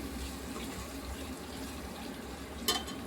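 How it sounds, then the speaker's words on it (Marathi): Water splashes into a cooking pan holding turmeric, salt, coriander powder and red chilli masala for a soybean pulao, a soft steady pour with a brief louder gush near the end, close and alone. "तर आता आपण याच्यामध्ये टाकून देऊ थोडंसं पाणी आणि आपला मसाला शिजू देऊ"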